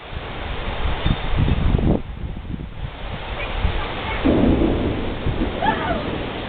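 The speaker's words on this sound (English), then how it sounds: "Can you hear the thunder?" Thunder rumbles low and heavy through a storm in Greenwood, Arkansas, with strong wind gusting and rustling around it, the rolls swelling and fading over several seconds.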